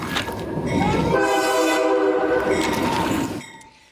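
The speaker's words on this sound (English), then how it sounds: "saving a man who was about to be run over by a train last fall" A train thunders past with its horn blaring in a long, loud, sustained blast over the rumble and clatter of the cars, then the sound cuts off sharply near the end.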